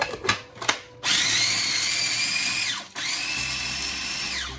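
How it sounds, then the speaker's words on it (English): Basil pesto with pine nuts gets pureed in a food processor: a few brief pulses, then a loud, high whirring motor run, a short stop, and a second steady run. "I'm going to puree that"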